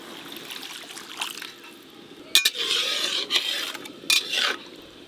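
Water goes into a boiling mustard-paste curry for hilsa, giving bursts of splashing and stirring over a soft bubbling simmer, close by and without talk.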